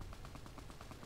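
Rapid gunfire in the video game Fallout: New Vegas, a faint, fast run of evenly spaced shots heard briefly and alone.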